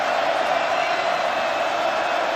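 Stadium crowd at a Boston College football home game, a dense, steady roar that fills the space evenly without breaks.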